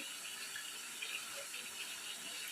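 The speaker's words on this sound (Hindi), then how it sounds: "तो चिकन हमारा गल चुका है, अब हम इसमें पानी ऐड करेंगे" Water pours steadily into a cooking pot of softened chicken for white pulao, a continuous close hissing splash of moderate loudness with no break and no talking.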